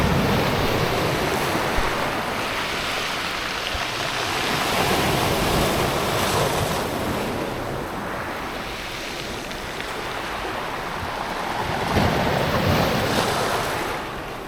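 Black Sea waves wash in and out in slow surges at Hopa, Turkey, mixed with gusty wind buffeting the microphone, no voices.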